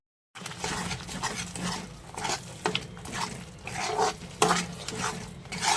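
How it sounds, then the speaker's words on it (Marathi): Cauliflower and peas are stirred and fried with garam masala in a pan, giving a close, uneven run of scraping spatula strokes and light clatter over a soft sizzle, with no talk. "सगळं ह्याच्यातमध्ये मिक्स करून घेऊयात पाच ते दहा मिनटं ह्याच्यात आपण फ्राय करून घेऊयात"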